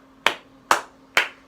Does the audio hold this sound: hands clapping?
yes